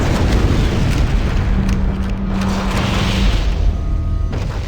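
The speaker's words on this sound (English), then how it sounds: "Use explosives on the other 3 reactors. That should be enough to trigger a wildcat explosion of the engines." Fusion reactors exploding aboard the starship Pillar of Autumn in Halo: Combat Evolved give a loud, continuous rumbling roar with deep booms and a low hum, sustained for several seconds without talk.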